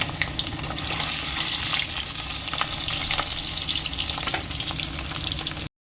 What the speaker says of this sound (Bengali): পমফ্রেট ফ্রাই করছি।